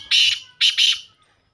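A black francolin partridge calls up close and loud: three harsh, high, rasping notes, one on its own, then a quick pair, all within about a second.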